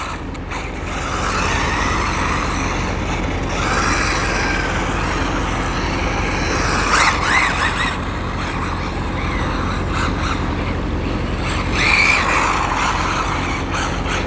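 A RLAARLO AK-787 2s RC car is driven hard at night on a dusty surface and spins out, its electric motor whining steadily and rising in bursts alongside tire scrubbing, with no voices.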